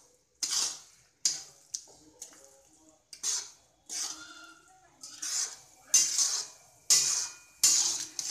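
A spoon scrapes and stirs masala spices, onion and salt in a pan for Bombay-style masala pav, making about ten distinct rhythmic strokes, close and crisp, with brief pauses between them.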